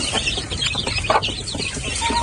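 Native chickens in a backyard batch cluck and murmur close by, a busy overlapping stream of short calls with one louder squawk in the middle.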